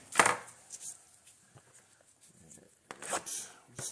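A blade slices through the plastic wrap on sealed trading card blaster boxes, giving short, close cutting and tearing rustles, with a louder cut at the start and more near the end, under quiet talk.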